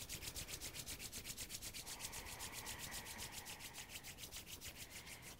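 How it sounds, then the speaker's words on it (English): Palms of the hands rubbed together quickly during a yoga session, a close, rapid rhythmic swishing friction with steady even strokes throughout, fairly quiet. "Rub the hands in front of your heart center."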